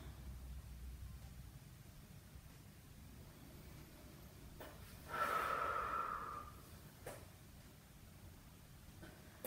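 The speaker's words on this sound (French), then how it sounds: "Soufflez bien." Breathing out during a post-run stretch at home, heard as one soft, breathy exhale that swells for about a second amid quiet background hiss, with faint breaths around it.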